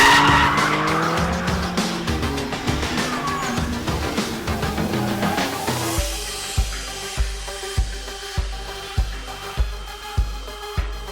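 A BMW sports car drifts with loud, continuous tire squeal over a roaring engine. The skid then gives way to a rhythmic, pulsing engine and tire sound close by.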